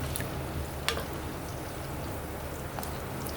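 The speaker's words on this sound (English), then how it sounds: "in a frying pan, add in your vegetable oil, then fry your meats" Meat fries in vegetable oil in a frying pan with a steady, crackling sizzle and scattered sharper pops, heard close and continuous with no voices.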